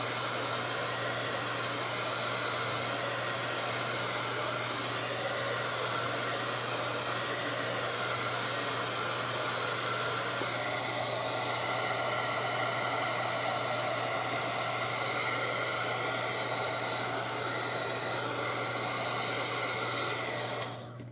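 A hair dryer blows on a watercolor painting with a steady, loud, unbroken whoosh and a low hum for about twenty seconds, then cuts off abruptly at the end.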